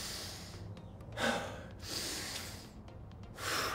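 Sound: deep breath during a HIIT workout cool-down

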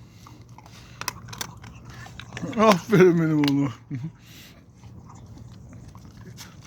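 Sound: dog chewing food

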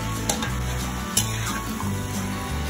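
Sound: bottle gourd being added to a pan and stir-fried

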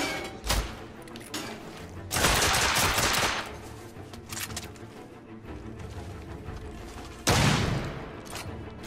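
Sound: shotgun fire in a video game

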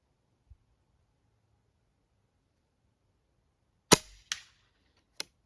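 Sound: air rifle pellets hitting a wooden target

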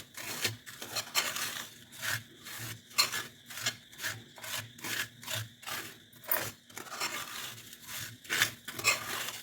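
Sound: sugar being stirred in a kadhai

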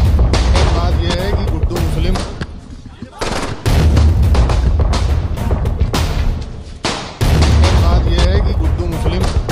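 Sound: gunfire in news footage of a shooting

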